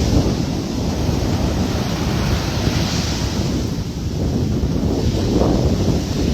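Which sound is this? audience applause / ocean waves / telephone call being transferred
ocean waves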